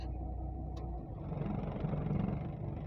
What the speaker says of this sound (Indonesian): ini kondisi mobil ketika mesin serta AC dinyalakan